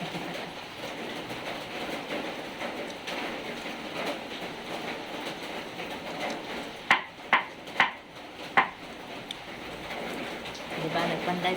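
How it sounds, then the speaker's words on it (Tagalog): Rain falls in a steady, soft wash through the whole stretch, with a few sharp knocks and taps partway through and a slight swell at the end. "Tapos ngayon, may ulan na naman."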